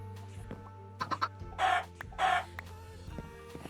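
Minecraft chickens give two loud, close clucks one after another midway, with a few shorter, softer clucks just before them over quiet game background.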